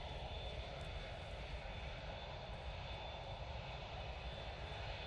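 An Emirates airliner moves at Manchester Airport, its engines giving a steady, loud, unbroken roar with a deep rumble underneath, with no voices.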